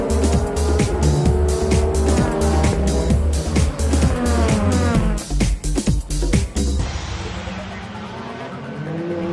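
A Toyota Supra race car on rain tires in a wet JGTC race roars close and loud, its engine note rising and dropping with rapid gear changes for several seconds before the sound fades to a dull rumble.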